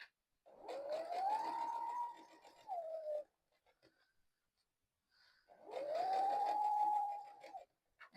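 A domestic sewing machine stitches a library tote bag with boxed corners, giving two close runs of motor whir. Each run ramps up to a steady hum and then stops, with a short quiet pause between them and no talking.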